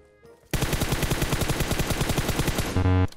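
Loud, continuous automatic gunfire in PUBG Mobile, a steady rapid rattle of shots lasting several seconds after a brief quiet start, ending with a heavier final burst.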